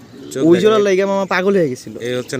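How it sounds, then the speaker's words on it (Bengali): A pair of racing pigeons gives close, loud, throaty coos in a few rolling, repeated bursts. "এই হচ্ছে সুন্দর এক জোড়া রেসার কবুতর"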